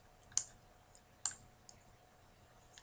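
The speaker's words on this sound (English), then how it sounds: "hold on your left click on your mouse to drag the new chart over." A computer mouse gives a few sharp, quiet clicks close to the microphone. Two stand out clearly and a few softer ones fall between them in a near-silent room.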